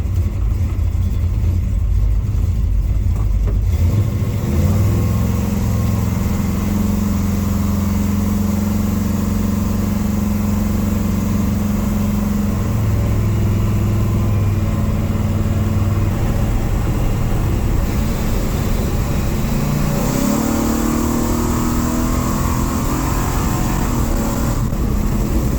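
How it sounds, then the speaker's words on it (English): A truck rolling along with a thin, steady rear-differential whine riding over the engine and road drone, rising and falling in pitch with speed, loud and continuous, no talking. "the rear end has got a little whine"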